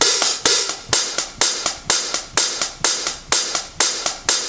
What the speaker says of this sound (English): the hi-hat is just flowing at 1/8 notes all along